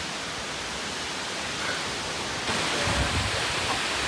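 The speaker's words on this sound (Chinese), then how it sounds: "这个瀑布还是蛮壮观的，70米高呢" A 70-metre waterfall on Doi Inthanon mountain near Chiang Mai pours as a steady, broad rushing roar, constant and unbroken, swelling slightly louder toward the end.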